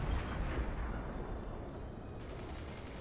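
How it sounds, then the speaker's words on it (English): Howitzer artillery in the video game Fortships fires in a dense rumbling barrage, heavy booms blending into a continuous low roar that fades slightly toward the end. "And then I think I get howitzers on them."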